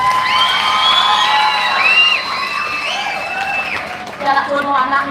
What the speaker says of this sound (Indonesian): Tepuk tangan lumun